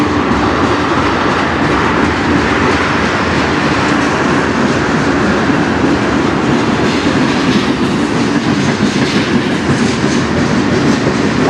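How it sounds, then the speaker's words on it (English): CN freight train passing on the Strathroy Subdivision in Sarnia, Ontario, a loud, continuous rumble with rhythmic clickety-clack of wheels on rail, steady and close for the whole stretch. "I've been waiting for this train to come over for 45 minutes."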